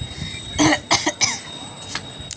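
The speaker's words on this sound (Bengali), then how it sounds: "কেমন একটা কাশি হচ্ছে" A person with an itchy, irritated throat coughs several times in short bursts at close range, with a few smaller throat sounds between them.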